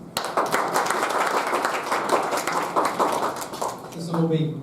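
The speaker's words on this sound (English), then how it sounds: "Let's give them a round of applause." An audience bursts into steady, fairly loud applause at a tech talk venue, many hands clapping in a dense continuous patter that fades near the end as a voice starts speaking over it.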